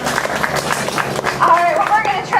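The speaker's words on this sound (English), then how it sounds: "Big round of applause for him." Zoo show audience clapping for Buckley the Australian dingo at the Palm Beach Zoo, scattered hand claps and applause mixed with crowd noise and a voice talking over it.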